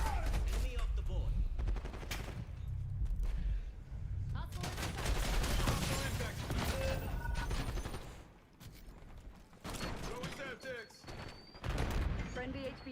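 Video game gunfire in a shooter firefight: repeated bursts of automatic weapon fire, loud and close, in clusters with brief gaps, mixed with other game sounds and voices talking.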